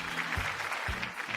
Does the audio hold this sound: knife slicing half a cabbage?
no